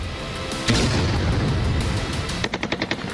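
Heavy Turkish artillery fire on northern Iraq booms and crackles in a continuous barrage, ending in a rapid burst of repeated shots, loud and close with no voices.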